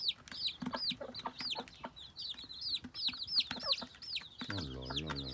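Two hens cluck busily while pecking at scattered grain, with chicks gathered around them; rapid, close, overlapping clucks and short peeps fill the space, and a low rumble enters near the end.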